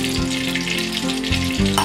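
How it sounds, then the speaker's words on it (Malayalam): Coconut oil heating in a thick-bottomed frying pan for beef cutlets, a close steady sizzle with crackling bursts and faint bubbling tones. "ചൂട് കട്ടിയുള്ള ഒരു ചീനച്ചട്ടി വെച്ച് അതിലേക്ക് 1 ഗ്ലാസ് വെളിച്ചെണ്ണ ഒഴിക്കുക."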